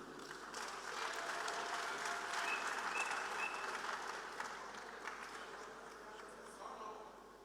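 An audience at a national orientation event claps to welcome a speaker, a sustained round of clapping that swells early and eases toward the end, with voices mixed in beneath.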